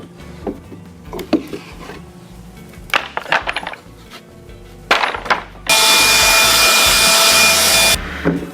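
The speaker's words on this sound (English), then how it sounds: "this CNC would cut out its own table" Shapeoko hobby CNC router cutting a wood sheet with a 1/8 inch bit: scattered knocks and scraping bursts, then a loud steady high-pitched routing roar for about two seconds, close and without speech.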